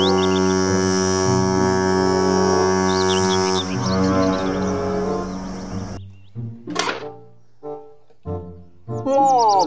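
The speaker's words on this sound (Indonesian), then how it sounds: "Kapal pesiar." Toy cruise ship horn blaring a long deep tonal blast for several seconds, then cut off, followed by short chirpy electronic bird-like tones and brief bursts.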